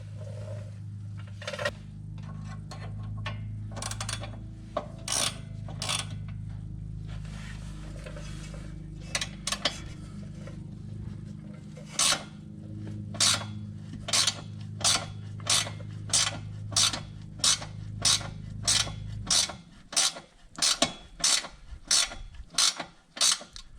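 A ratchet turning to clean bolt threads on a Subaru Outback front sway bar, starting with creaks and mechanical rubbing, then a long, evenly spaced run of sharp ratchet clicks growing crisper toward the end, close up with no talking.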